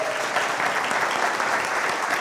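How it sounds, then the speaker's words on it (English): Audience applause for Congressman Brian Mast at a Palm Beach North Chamber business breakfast: a dense, steady wash of many hands clapping, close and loud, holding evenly throughout with no voices standing out. "let's give the Congressman a big round of applause"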